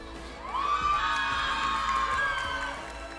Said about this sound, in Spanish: Quiero pedir una ovación bien fuerte